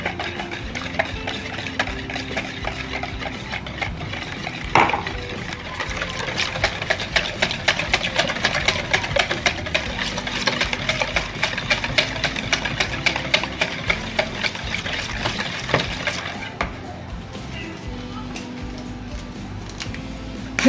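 An electric mixer beats eggs into pastry batter for pasta frola, a steady whirring drone with ticking clatter from the beaters against the bowl, continuous and fairly close throughout.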